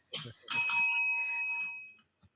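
A single bright bell chime is used as a moment-of-clarity sound effect, striking clearly after a brief sound and ringing with sustained shimmering tones for about a second and a half before cutting off.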